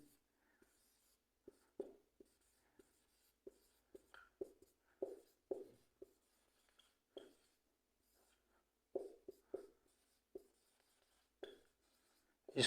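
A pen scratches on paper while someone writes out a class 10 trigonometry solution, producing faint short strokes in irregular bursts with brief pauses between them.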